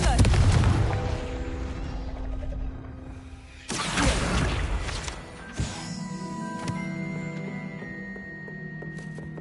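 A Confringo fire spell in Hogwarts Legacy bursts with a booming blast and rumbling tail, followed by a second explosive impact and a fading ringing resonance, over game effects.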